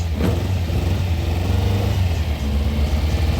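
Two VW Beetle 2.3 boxer-engined oldtimers rev at a quarter-mile drag strip, producing a loud, continuous low engine rumble with a brief sharp burst at the start.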